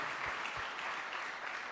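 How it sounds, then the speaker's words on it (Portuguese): A church congregation bursts into steady applause, a dense, even clatter of many hands clapping close by that lasts the whole moment. "Dá um aplauso para o papai, em nome de Jesus"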